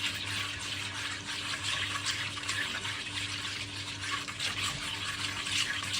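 A flour and water mixture is stirred in a pot, with soft, continuous liquid sloshing and swishing heard close and fairly quiet, accompanied by a faint steady low hum.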